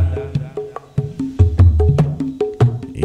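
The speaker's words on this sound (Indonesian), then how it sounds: "Ini suara kendang." Kendang drum in gamelan-style backing music for an MC at a hajatan celebration with a dance performance: quick, crisp hand-drum strikes keep a steady, busy rhythm over low tonal notes, loud and close with no talking.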